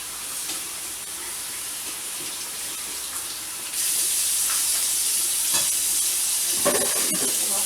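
Kitchen tap running while food is rinsed under it: a steady hissing stream that swells louder partway through, with scattered clinks and splashes from handling, close and without talk.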